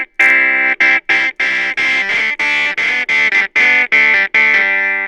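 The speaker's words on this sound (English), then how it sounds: "So as I turn up the distortion gain, this is going to turn down the level." Casio Privia Pro PX-560 keyboard played through its distortion effect, a string of loud, sustained, buzzing chords in short rhythmic bursts separated by brief gaps, with no voices.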